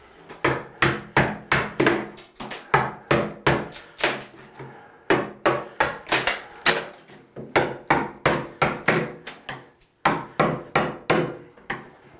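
Ceramic tile being hammered and broken off a shower wall during a tub and shower renovation, loud repeated sharp hammer blows in quick bursts with brief pauses between runs, close and without talk.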